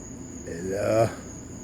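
A cicada on a deck gives a brief rising buzz that swells for about half a second and cuts off, close up over a steady background hiss.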